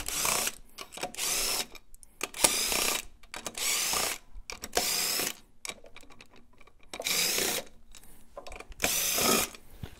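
An impact gun breaks loose bolts while a clutch weight is being removed, firing in several loud, close bursts of rapid hammering separated by short pauses, with no talking.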